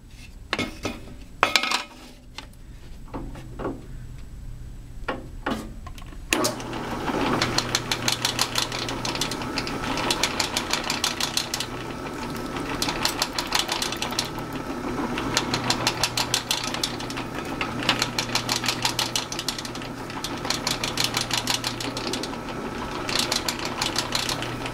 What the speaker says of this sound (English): now we're going to drill the rest of the number 7 holes